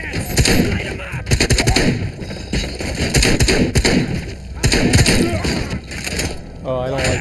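Repeated gunfire in the video game RoboCop: Rogue City, loud bursts of shots and thuds in close succession across the whole stretch, with voices talking over the combat.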